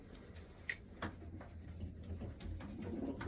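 Pigeons cooing softly in a loft, low murmuring coos with a few faint clicks and flutters, steady background rather than loud, no talk over it.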